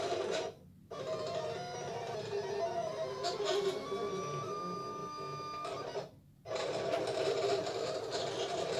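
Silhouette Cameo 4 cutter with a rotary blade working through fabric on a mat, producing a steady mechanical whir with motor whines and brief pauses as the carriage shifts, fairly quiet and continuous.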